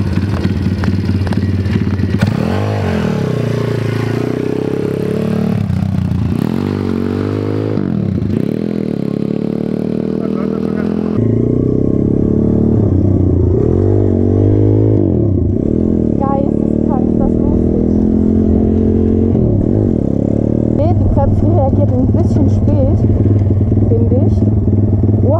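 A pit bike engine revs repeatedly while being ridden, loud and close, rising and falling in pitch through repeated throttle blips with some clatter, as people talk over it.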